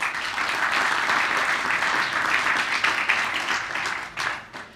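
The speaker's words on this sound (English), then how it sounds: "So please give a warm round of applause for Martin McDowell" A room of people applauds warmly for Martin McDowell as he is introduced for a family history society talk; dense, steady clapping holds for nearly five seconds before tapering off.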